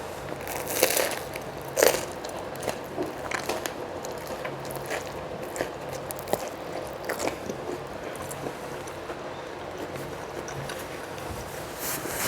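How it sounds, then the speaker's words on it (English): Someone bites and chews vegan French bread pizza up close, with a crunchy bite near the start followed by steady, soft crackling chewing over low background noise. "Get one more bite."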